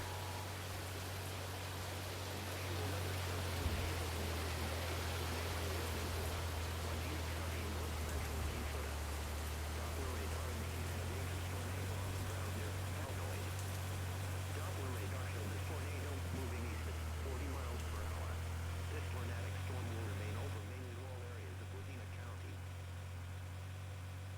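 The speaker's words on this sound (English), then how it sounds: "Heavy rainfall may hide this tornado, making it extremely difficult to see" Heavy rain in the Roblox game Twisted, a dense steady downpour hiss with a low droning hum beneath, easing slightly near the end.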